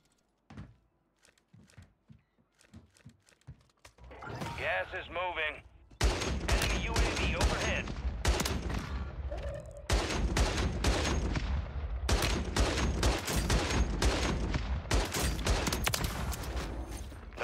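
Sustained SMG fire in Warzone 3 from the Striker submachine gun, loud dense bursts of rapid shots running almost continuously after a few quieter opening pops.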